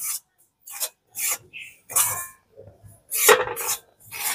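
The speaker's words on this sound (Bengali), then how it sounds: "এবারে ময়দাটা দিয়েও 2-1 মিনিট মতন হালকা করে একটু সুজিটার সাথে নেড়ে নেব।" Semolina and flour are stirred in a pan, giving short scraping, rasping strokes of a spoon across the pan's base, separated by brief pauses.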